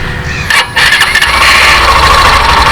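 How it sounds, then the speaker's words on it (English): A Hero Glamour XTec 125 motorcycle engine cranks and fires up, then settles into a loud, close, steady run with no talking. "it's time to hear how this bike sounds"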